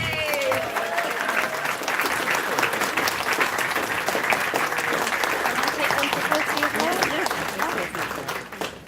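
Audience at an anime convention closing ceremony breaks into sustained applause, dense steady clapping filling the whole stretch with some crowd murmur mixed in.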